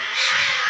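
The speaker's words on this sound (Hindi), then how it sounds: "बिल्लियाँ भी लड़ रही हैं, देख रहे हैं, रात को भी बिल्लियाँ लड़ती हैं" A cat lets out a single short, strained yowl at night, shrill and fairly close, alone and lasting under a second.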